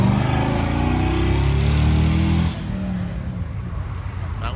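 A Chevrolet C10 pickup drives past at a car cruise, its loud, close engine rumbling and roaring before it drops off quickly to a lower, more distant drone.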